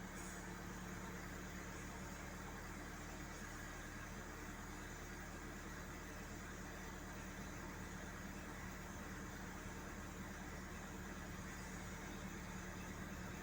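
A VW Passat B5 with a 1.6 petrol engine idles steadily while warming up, a continuous low, even hum with no talk over it.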